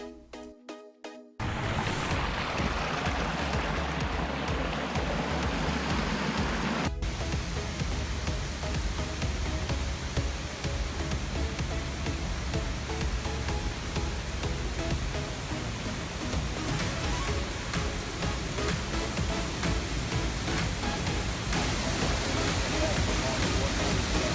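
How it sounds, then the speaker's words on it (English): A waterfall in Bali roars as a dense, constant wall of falling water, loud and close, running unbroken after a brief quieter opening. "Next up, we checked out a couple of waterfalls."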